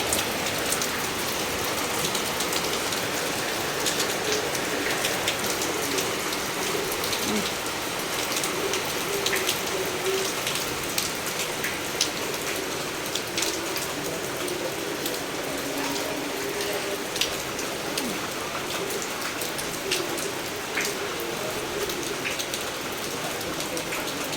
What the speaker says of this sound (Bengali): আজকে বিশাল জোরে বৃষ্টি হচ্ছে